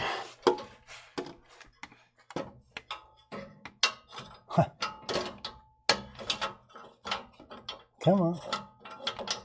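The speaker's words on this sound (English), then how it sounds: "my electric ratchet should be able to get that" An electric ratchet loosens a manifold bolt on a Jeep XJ engine in short, near, buzzing bursts with clicks and metallic clinks between them, under scattered quiet talk.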